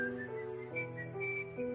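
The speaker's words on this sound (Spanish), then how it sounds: "La melodía silbada se utilizaba para presentar al personaje cada vez que éste aparece" A whistled melody by Edvard Grieg from a film, a clear solo whistle carrying a stepwise tune of held and shifting notes over a faint background.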